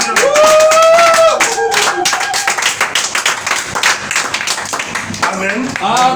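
A church congregation claps and cheers in acclamation of the Lord, loud and continuous, with rhythmic hand claps and shouting voices, and a singing voice rising over it at the start.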